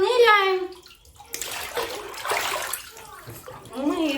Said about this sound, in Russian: Ромочка, ныряем.